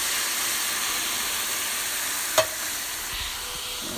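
Canned callaloo and ackee stirred in a steaming pot: a steady soft sizzle and hiss throughout, with one brief sharp scrape or clink of the utensil midway.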